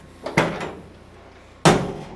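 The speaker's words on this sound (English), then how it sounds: "Little body work with a 4x4 and a big hammer." Two hard thuds of a big hammer driving a 4x4 against the bottom of a Chevy C10 steel door during bodywork, one soft and one louder, about a second and a half apart, close by in a quiet shop.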